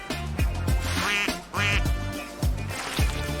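Duck quacking sound effect: a rapid series of nasal, buzzy quacks, about six or seven in quick succession, close and loud with no other sound.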